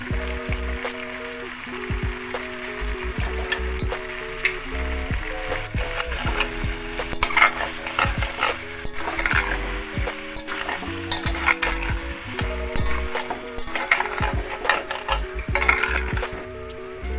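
A ground spinach and fenugreek paste sizzles in a pan for a Bengali potato dish while a spoon stirs it. Scraping and clattering strokes repeat over the frying hiss, with soft background music underneath.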